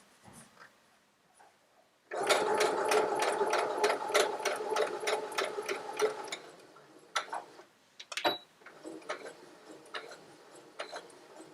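A domestic sewing machine stitches inset seams on fabric baby name blocks, running loud and fast in a rapid even rhythm for about four seconds, then slowing to short bursts and single clicks.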